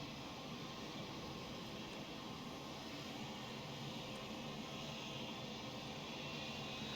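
Simulated jet engines of a C-17 Globemaster in Microsoft Flight Simulator 2020 produce a steady, faint, even roar with no change in pitch or level.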